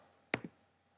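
A computer mouse clicking twice in quick succession, sharp and close, against a quiet background.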